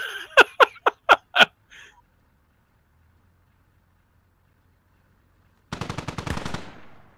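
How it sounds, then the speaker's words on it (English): Gunfire in the military shooter Squad: a rapid burst of about six sharp shots, then a pause of near silence before a louder, denser crackle of sustained fire and blasts. "Shots coming in on this upper floor."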